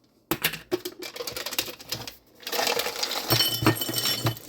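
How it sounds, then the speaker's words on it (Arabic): Mixed nuts poured into a serving dish, making a close, loud rattling clatter of many small hard pieces hitting the dish, in two bursts with a short pause between. "وهنا غادي نحط شويه ديال المكسرات."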